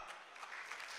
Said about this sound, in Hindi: हमारे अगले मेहमान शायर तशरीफ लाते हैं, भरपूर तालियों में इस्तकबाल कीजिएगा जनाब हमजा इसहाक।